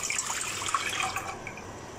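Water, 500 ml of it, is poured into a pot to cook Nongshim Shin Kimchi ramen, giving a close, continuous splashing and trickling stream with no voices.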